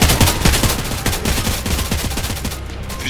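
A G3 rifle in the Roblox zombie shooter Zombie Uprising fires a fast, steady automatic burst, loud and close, with sharp repeated reports running nearly unbroken to the end.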